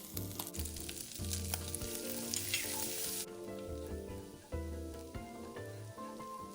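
Finely chopped shallots sizzling in lard in a hot wok, with a continuous close crackle and occasional stirring scrapes, under light background music.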